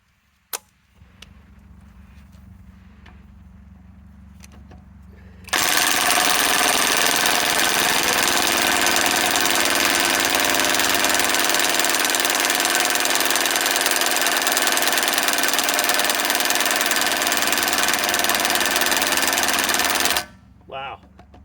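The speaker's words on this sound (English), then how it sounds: "I'm going to loosen it up with my Harbor Freight Hercules Compact" A Harbor Freight Hercules Compact Gen2 cordless impact wrench with a 4 amp-hour 21700 battery loosens a nut in one loud, close, sustained hammering burst of about fifteen seconds, followed by a brief second burst, with quieter handling noise before it.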